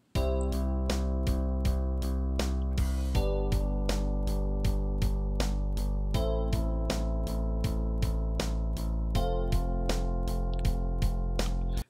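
A synthetic bass line played back by notation software, steady, evenly spaced notes with a mechanical, sampled tone, continuous and clean with no voices.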